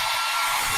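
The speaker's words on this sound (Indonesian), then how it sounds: "hair dryer Philips, ngeringin rambut jadi cepet pakai hair dryer Philips" A Philips hair dryer blows with a steady, loud rush of air, close and continuous, with no talking.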